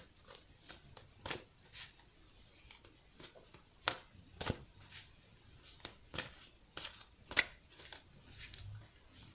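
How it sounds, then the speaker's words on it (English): Archangel tarot cards being shuffled, with repeated soft riffling snaps and flicks at an uneven pace, close up and quiet, no talking. "I'm going to try to shuffle some."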